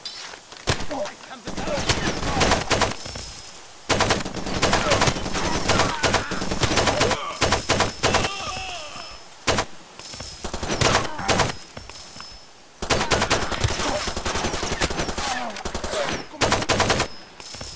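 Enemy gunfire in Far Cry 2: dense bursts of automatic rifle fire and overlapping gunshots at an enemy outpost, loud and sustained in waves with short gaps, a voice speaking over parts of it.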